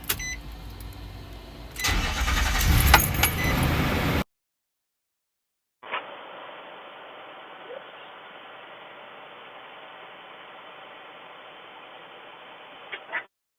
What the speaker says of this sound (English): Confirm, start the vehicle.